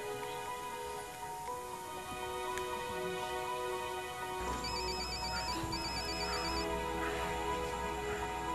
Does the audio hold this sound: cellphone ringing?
yes